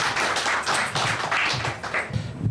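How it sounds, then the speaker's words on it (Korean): A church congregation applauds with a dense, continuous patter of hand claps that swells and dips slightly over a couple of seconds, close and moderately loud. "우리 박수 한번 부탁드리겠습니다."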